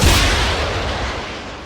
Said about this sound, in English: we've got the missile firing off, and we've got some cool smoke trails here